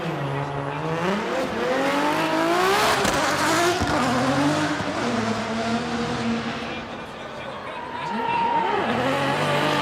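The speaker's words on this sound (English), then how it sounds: "the car sounds really bad" A BMW E92 drift car in qualifying at Okayama International Circuit revs hard and rises and falls in pitch as it swings through, with tire squeal mixed in. The engine sounds loud and rough.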